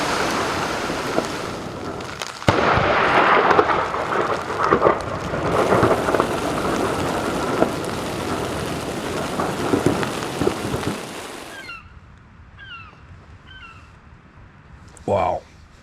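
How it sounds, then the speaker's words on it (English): A heavy thunderstorm on Isle Royale brings dense, loud rain and rolling thunder that fade off abruptly. Sparse bird calls follow in the quiet, and there is one short burst of noise near the end. "This seriously feels like we're in the thunderstorm."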